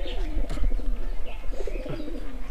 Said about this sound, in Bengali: চলেন এই কবুতরটা খোপের ভিতরে রেখে আসি